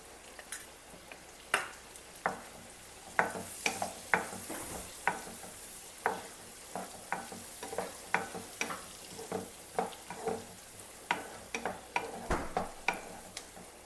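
Onions frying in a pan for a prawn curry, a steady sizzle with a spatula repeatedly scraping and tapping the pan in a fairly regular rhythm, close and clear, with no speech.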